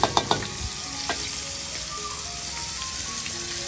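Food frying in a wok of oil heated past boiling, a dense loud sizzle holding steady throughout, with a few sharp clanks of stirring at the start.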